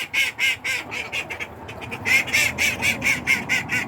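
Domestic geese and ducks on a farm call in a rapid series of loud, nasal quacks and honks, close by and repeating almost without pause.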